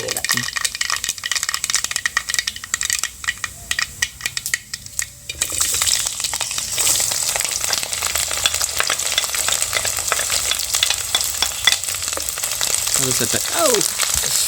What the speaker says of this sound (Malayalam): കടുക് പൊട്ടി നമുക്ക് ഈ വെളുത്തുള്ളി വെളുത്തുള്ളി